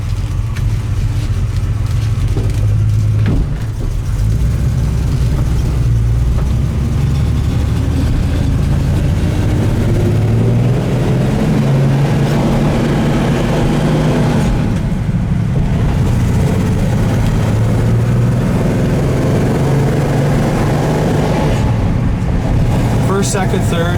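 A 1966 Mustang Coupe drives along with its engine droning low and steady as the gears change, and someone talks over the car noise the whole time.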